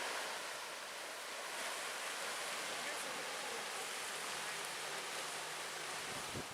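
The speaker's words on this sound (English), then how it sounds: "And of course the popular Spray Falls. That waterfall is about 60 feet high." Spray Falls, a waterfall about 60 feet high on the Chapel Loop at Pictured Rocks, pours in a steady, loud broadband roar that holds unbroken throughout, with wind buffeting the microphone.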